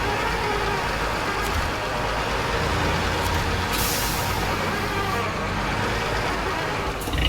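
A lorry in a video game, used to recover a broken Pajero, rumbles at a steady engine drone. A single sharp hiss of air brakes bursts out midway, then the drone continues.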